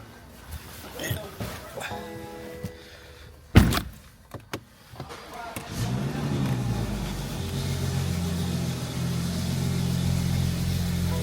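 A Dodge SRT8 with cat downpipes starts up outdoors in the cold: door and mechanical clunks, a sharp crank, then the engine catches and settles into a loud, steady rumbling idle that fills the rest of the clip.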